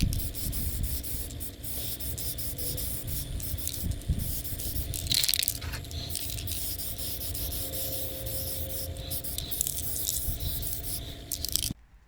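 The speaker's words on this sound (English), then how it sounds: "I'm just going to use some wheel lacquer, and I'm doing it with my trusty Monster. So let's get spraying." A spray can of wheel lacquer hisses in steady bursts over a custom rear diffuser for a time attack car, close and fairly quiet, with a brief louder puff midway and a cut-off at the end.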